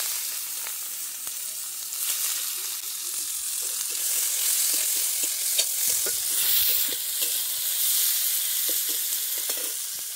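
Bay leaf, dried red chillies and whole cumin sizzle and crackle steadily in hot oil for a Bengali village-style prawn curry, with a bright continuous fry and scattered pops and stirring taps, close and fairly loud.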